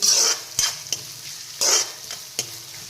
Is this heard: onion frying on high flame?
yes